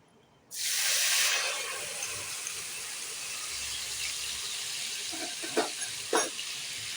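Ground spice paste mixed with water dropped straight into hot oil, a sudden loud sizzle that flares up then settles into a steady frying hiss, with a couple of soft utensil knocks near the end.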